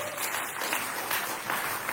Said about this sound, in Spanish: Si va a aplaudir, aplaude, hermano.